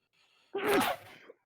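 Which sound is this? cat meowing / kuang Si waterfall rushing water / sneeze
sneeze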